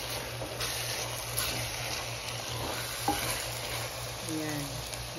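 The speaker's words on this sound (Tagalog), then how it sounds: "Haluin muna natin siya." Onions, with okra added, being stirred as they fry in a pan: a steady, quiet sizzle with soft scraping of the spoon and an occasional knock, close by with no talking.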